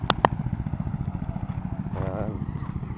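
Motorcycles run along a wet street where people are washing bikes, a steady engine drone with a clattering passing burst near the end, under nearby talk.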